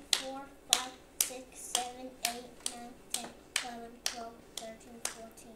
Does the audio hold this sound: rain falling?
no